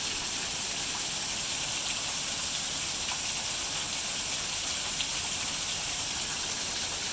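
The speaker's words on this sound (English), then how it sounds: "look at all that water" Floodwater rushes steadily during a flash flood, a continuous broad hissing gush with no breaks, moderately loud and close, with no voices over it.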